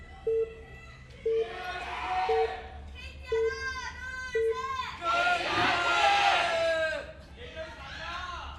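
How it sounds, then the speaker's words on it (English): An esports arena crowd packed with KT fans at an SPL2015 StarCraft match roars and chants together in loud, rhythmic bursts of cheering with rising swells, close and full throughout. "Some sick passion in the crowd tonight. Tons of KT fans, man."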